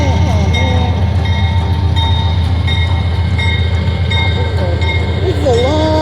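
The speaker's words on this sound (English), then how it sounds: "Then I had to wait for a train to pass on my way out of town." A long train rolls by close and loud at a crossing in Texas, a continuous heavy rumble with rhythmic clacking and squealing metal wheels throughout.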